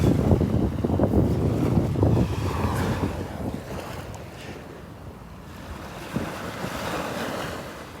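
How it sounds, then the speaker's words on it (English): Wind blowing on a beach at Delnor-Wiggins during a morning walk, a loud rushing buffet against the microphone that eases midway with surf in the background, no voices. "That wind is picking up."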